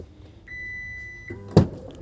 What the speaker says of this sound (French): Coffre électrique, petit bip.